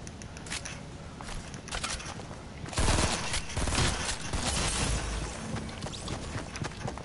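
Rapid automatic gunfire from a squad-based shooter video game, dense and continuous bursts with a louder cluster midway through, ringing out close and sustained with no voices over it.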